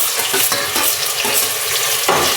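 Onions and green chillies fry in hot oil for bachelor-style biryani, a loud, continuous close-up sizzle with brief scraping stirs.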